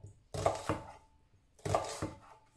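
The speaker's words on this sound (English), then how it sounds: "The worst part of this for me is chopping the onions" Onions being chopped with a knife on a board in a home kitchen, two distinct quiet double knocks of the blade landing, close and sparse.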